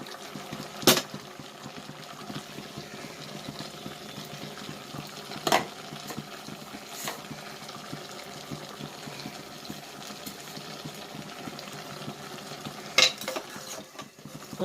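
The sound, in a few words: stirring mutton with curry leaves in a pan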